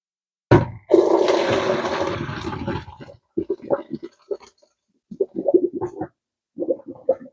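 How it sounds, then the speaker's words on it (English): Cooked peas are strained in a kitchen as water pours off in a loud gushing splash lasting a couple of seconds, followed by bursts of speech. "When I strain the peas, I'm intentionally going to leave some water in here because that's part of my sauce."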